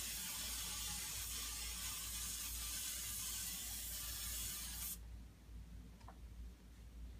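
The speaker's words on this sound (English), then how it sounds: "I'm going to spray it with some oil so that the brownies don't stick" Cooking oil sprays from a can into a baking pan for brownies, a continuous soft hiss lasting about five seconds that then cuts off, followed by quiet room tone and a faint click.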